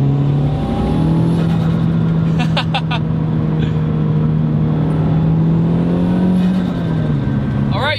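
A first-generation Audi TT fitted with a big turbo running about 20 pounds of boost holds a steady, loud engine drone with a low sustained tone and a brief higher rise, heard from close up.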